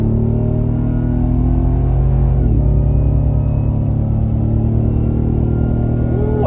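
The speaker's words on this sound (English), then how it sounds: "That's the loudest I've heard this supercharger yet." A 2024 Ford Raptor R pulls a trailer up a steep hill, its engine rumbling loudly and continuously while the supercharger whine rises over it, close and sustained.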